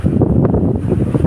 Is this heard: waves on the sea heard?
yes